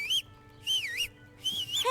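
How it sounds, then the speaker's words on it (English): A man whistles close by in the medieval game Kingdom Come: Deliverance, three bright, warbling phrases with short gaps between them over a quiet background hum. "why is a guy whistling in my ear?"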